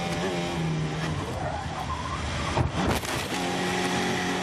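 A race car skids and spins in a crash during a 2016 race, with tyre squeal and scraping followed by a sharp impact burst midway, all under a continuous engine roar.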